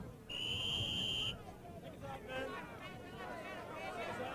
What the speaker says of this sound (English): The warning whistle for round 3.